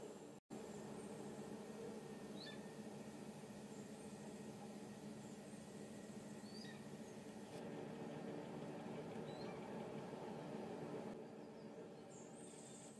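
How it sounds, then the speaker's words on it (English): A car engine idles in the Forza Horizon 5 racing game on a JDM build, giving a faint, steady low rumble that holds for the whole stretch with no talking. "I will boost the audio so that y'all can hear this idling."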